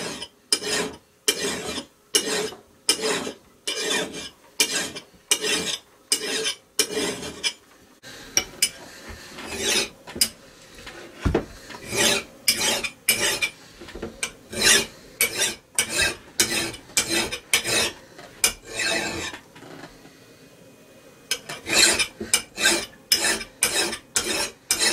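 A metal file is worked along an axe blade in quick rhythmic strokes, each one a sharp, close raspy scrape. The strokes come in steady runs, with brief pauses and quieter scraping in between.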